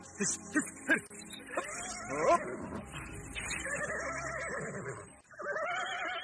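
A horse whinnies and snorts several times in short bursts, fairly close by, along a rice-field path in the countryside, followed by a steadier stretch of animal vocalising and background movement.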